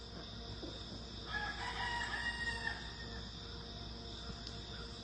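A rooster crows at sunrise outdoors, one drawn-out call that rises and holds in the middle of the stretch, moderately distant, over a steady hiss of background ambience, with no talking.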